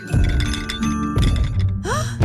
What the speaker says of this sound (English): That's the sound of big feet.